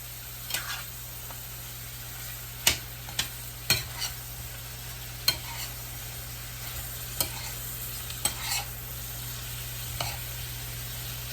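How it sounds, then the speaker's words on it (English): Squash being stirred in butter in a pan, with a faint steady sizzle under scattered scrapes and clinks of the spoon against the pan, close up and with no talking. "you keep on stirring it in this butter"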